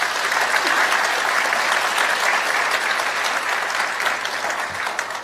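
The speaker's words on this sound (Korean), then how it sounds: "사장님께 큰 박수 한번 부탁드리겠습니다." Loud sustained applause from employees at a company's 24th anniversary ceremony, a dense even wash of clapping from a large crowd that fades slightly at the close.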